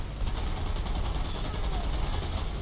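Rapid automatic machine gun fire in the video game War Thunder rattles in a continuous, dense burst over a rough background roar, sounding distant.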